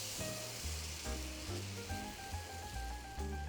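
Banana pancakes cook two at a time in a pan, giving off a steady, soft sizzle that runs continuously at low volume, with faint clinks and kitchen noise layered over it.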